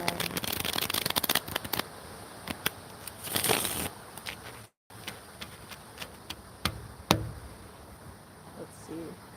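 Tarot cards are shuffled by hand in a series of quick, crisp riffles and taps. Short bursts repeat at an uneven pace, close and fairly quiet, with a brief silent gap midway through.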